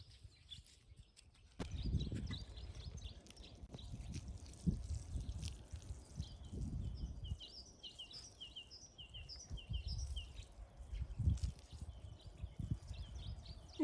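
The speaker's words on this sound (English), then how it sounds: "And I'll go give this a water." A watering can sprinkles water over freshly sown seeds in a spring garden, a soft pouring trickle in short bursts, with birdsong chirping in the background.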